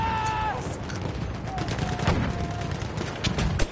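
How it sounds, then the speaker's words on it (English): Enemy machine gun in the shooter game Battlefield 1 fires in dense, rapid bursts amid a noisy battlefield, with scattered shots and crackle throughout and players talking over the din. "It's an enemy machine gun."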